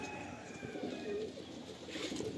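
Pigeons at a pigeon sale in Garia, Kolkata, coo in low, steady, rolling murmurs close by, with no talk over them.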